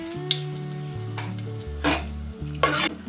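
Asafoetida and dried red chillies hitting hot oil, giving a steady frying hiss with a couple of louder bursts of spitting and clatter over a sustained tonal hum, no voices.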